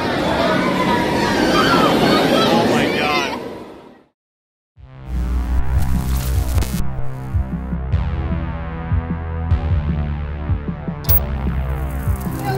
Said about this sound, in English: Here comes the light bikes.